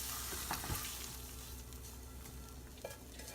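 Ingredients for a meatball vegetable soup sautéing in a pot, giving a steady low sizzle and frying crackle with a few clinks of stirring, close by and with no talking.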